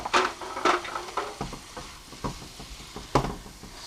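Butter chicken with added spices being stirred in a pan, a quiet sizzle broken by a few clattering spoon strokes and scrapes at irregular intervals.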